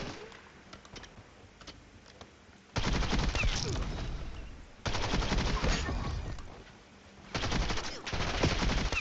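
Bursts of CBRS-3 automatic gunfire in Black Ops 7, three long loud volleys of rapid shots separated by quieter gaps with faint distant game sounds.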